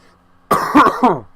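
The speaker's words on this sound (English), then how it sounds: "I'm really sorry about all the coughing." A single close, loud cough burst of three quick hacks with some throat clearing, from a man recording a Tyranny game session.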